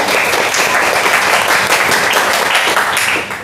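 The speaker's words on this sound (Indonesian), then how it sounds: "Oke, tepuk tangan dong." A high school class claps together in a classroom, loud, dense applause that holds steady for about three seconds before easing off at the end.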